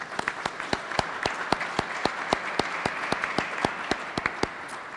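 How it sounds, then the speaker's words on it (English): Sparse applause from an audience at a governor's bill-signing ceremony, individual claps ringing out at a steady pace over a few seconds, moderately faint and without speech. "Can we give them a round of applause?"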